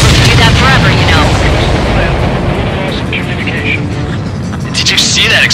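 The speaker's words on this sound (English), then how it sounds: "Did you see that explosion?" Explosion in the Ace Combat 7 combat flight game, a loud broad rumbling blast at the start that decays into sustained roaring noise, with game radio voices talking over it.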